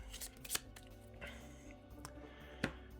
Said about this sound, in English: And I'll shuffle these a bit